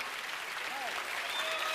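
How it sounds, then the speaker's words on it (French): Studio audience on the French TV show Star Academy breaks into steady, dense applause that holds at an even level throughout, with a faint voice underneath. "Un tonnerre d'applaudissements pour le rocker italien"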